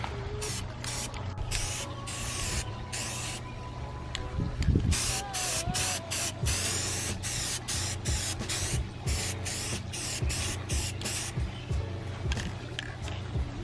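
Aerosol can of Rust-Oleum semi-gloss black paint hissing in repeated short and long bursts as it coats Mercedes-Benz lower grills, close and steady with brief pauses between sprays.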